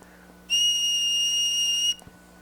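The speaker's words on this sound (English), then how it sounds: "These are little whistles, little flutes, made from turkey femurs." A small 800-year-old flute made from a turkey femur bone plays one steady, shrill high whistle, held for about a second and a half and heard close and alone.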